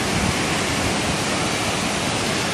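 Powerful roar of the Birthi waterfall in Uttarakhand, a dense, steady rush of heavily falling water that fills the whole clip, loud and close with no pauses.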